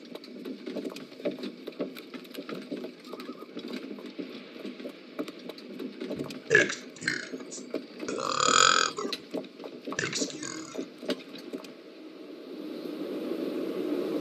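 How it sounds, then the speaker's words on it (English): A burp erupts during a live Oregon Trail gaming stream, a loud throaty belch about two seconds long near the middle, preceded by a shorter vocal burst and followed by another, over steady game background noise. "say it after the burp"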